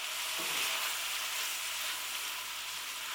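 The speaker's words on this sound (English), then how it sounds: "Now we're going to add our soya mince. Give it a good stir." Soya mince stirred in a pan for a vegan shepherd's pie, a steady broad hiss of frying with a soft stirring scrape early on, close and even throughout without speech.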